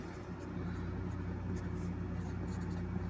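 A pencil with a dark green body and red eraser scratches steadily across paper in a continuous dry, rasping stroke that stays close and even throughout, with no talk over it.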